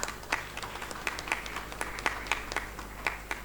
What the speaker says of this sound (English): So please want us to give him a round of applause.